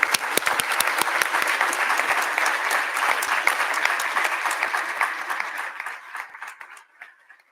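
A large audience applauds at the WVU School of Dentistry Professionalism Assembly 2025, a dense, sustained wash of many hands clapping that holds steady for several seconds before thinning and fading out at the end.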